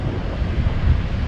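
Ocean surf beside a massive rock pool on the South West coast of Western Australia washes in a steady low roar, mixed with gusty wind buffeting the microphone.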